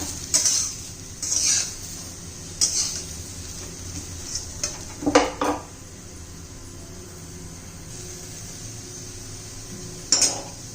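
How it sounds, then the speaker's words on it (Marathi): Cluster beans dry-roasting in a pan without oil, with scattered clinks and scrapes of a utensil against the pan over a faint background hiss, close and without talk. "हे बघा गवारी भाजत होत आली आहे"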